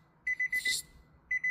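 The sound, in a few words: car stereo key beep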